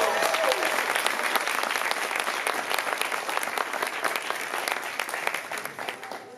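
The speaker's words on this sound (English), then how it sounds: "Let's give them all a round of applause." Sustained, dense audience applause from a convention panel crowd at San Diego Comic-Con, loud and steady throughout before tapering slightly at the end.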